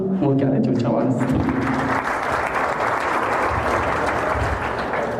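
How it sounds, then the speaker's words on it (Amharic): Warm, sustained audience applause fills a hall at a television station's 14th anniversary celebration, a loud steady wash of many hands with a voice talking over its opening moments. "እስቲ ለራሳችሁ ሞቅ ያለ ጭብጨባ እስቲ"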